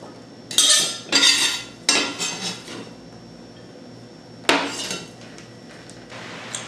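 A knife cuts through soft Kirby cucumbers on a board for pickles, giving a few sharp chopping knocks in quick bursts, then a pause and another cluster of close, crisp cuts.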